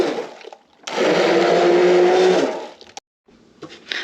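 A kitchen blender whirs steadily through cooked tomatoes for about a second and a half, loud and close, then cuts off. A few brief clunks and handling noises follow, with no talking.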